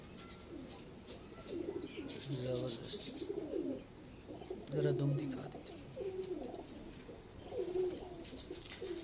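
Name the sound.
pigeons cooing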